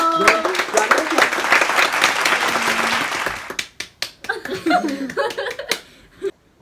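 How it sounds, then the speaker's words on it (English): A small group's round of applause mixed with laughter, dense clapping for about three seconds, then scattered claps and chatter as it thins out. "One of applause. Oh. Round of applause."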